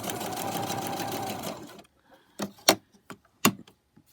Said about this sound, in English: Sew some more.